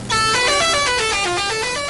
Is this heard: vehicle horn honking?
yes